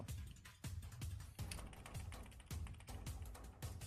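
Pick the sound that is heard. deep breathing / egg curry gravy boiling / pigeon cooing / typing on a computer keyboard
typing on a computer keyboard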